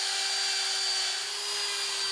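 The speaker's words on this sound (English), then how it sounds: "an electric grinder, he does the finishing work" Electric grinder doing finishing work on fired ceramic pots, a steady high whine with a constant pitch that runs unbroken and loud, with no other sounds around it.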